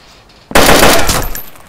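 Loud video game gunfire blasting an enemy, a sudden burst of close, heavy shots erupting after a quiet moment and rattling on with a tapering tail.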